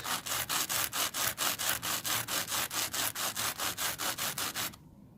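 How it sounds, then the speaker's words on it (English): A sanding block scrapes back and forth along the edges of cast concrete in quick, even strokes, about four per second, close and loud, then stops abruptly. "just use a sanding block"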